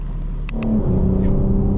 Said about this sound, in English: Getting to hear what the exhaust sounds like with the valves closed.